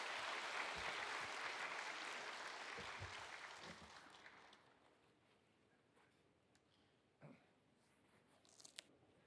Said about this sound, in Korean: 나오실 때 박수로, 따뜻한 박수로 환영하겠습니다.